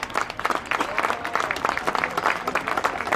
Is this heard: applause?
yes